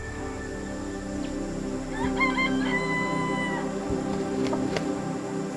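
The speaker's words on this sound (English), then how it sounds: "Those birds over there, they're the jungle fowl." Red junglefowl calling in Singapore, steady birdsong-like tonal calls and a rooster-style crow amid a continuous outdoor chorus of birds and insects, moderately distant.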